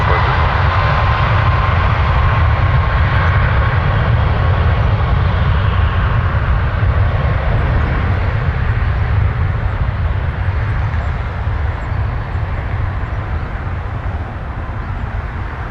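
An airliner takes off from runway 23 at Toronto Pearson, its engines giving a loud, steady broadband roar that carries through and eases only slightly toward the end.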